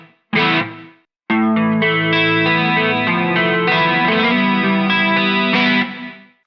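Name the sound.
electric guitar through pedalboard effects with reverb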